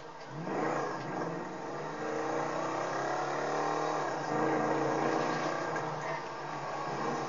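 A GTA 5 car engine revs steadily with rising and falling whine, thin and slightly synthetic in tone, continuous throughout at moderate loudness.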